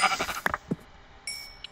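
A Minecraft sheep gives a short bleat alongside other brief in-game blips and clicks, close and moderately loud, with no speech during the sound.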